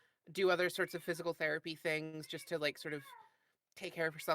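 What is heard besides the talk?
cat meowing loudly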